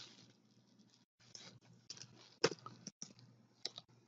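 Soft, quick clicks from a computer keyboard come in short bursts with brief pauses while a spreadsheet formula is typed, close and quiet with no talk.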